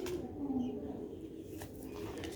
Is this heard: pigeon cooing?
yes